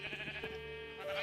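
Sheep in a video game bleat over a dense, continuous game soundtrack, several wavering calls layered within steady musical tones.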